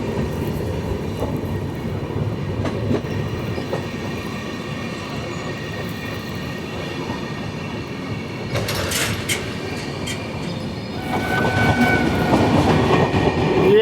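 Howrah–Ranchi Vande Bharat Express passing close by, a steady rolling rumble of wheels and carriages that swells louder near the end with sharp clattering bursts.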